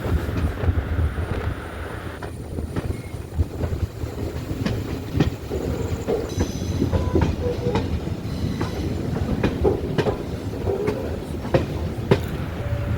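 Tenkasi–Kollam passenger train creeping slowly downhill under braking at about 30 km/h, a continuous low rumble of wheels on rails with faint clicks and occasional squeal, recorded from on board with wind buffeting.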